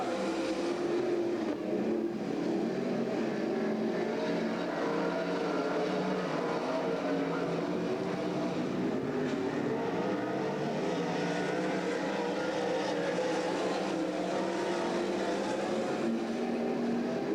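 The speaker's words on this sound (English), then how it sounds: "here comes Shauna Wilkie working over the 75 car" 360 sprint cars race at Grays Harbor Raceway in 1999. A continuous, distant engine roar rises and falls as the field circles the track, steady and unbroken throughout.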